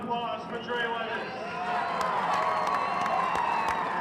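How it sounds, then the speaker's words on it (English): Sustained crowd cheering and applause fill a gymnasium at a high school girls' basketball playoff game, honoring a player named Trey Weathers reaching 1,000 points, loud and steady throughout with shouts rising over the clapping. "please give a nice round of applause for Trey Weathers"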